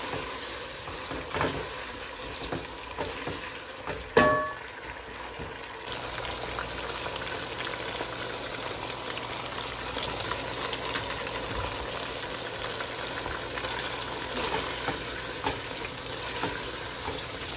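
Chicken karahi, Peshawari style, sizzles and fries steadily in the pan after ginger-garlic paste goes in, a dense continuous hiss with a brief clatter of stirring near the start, no voices over it.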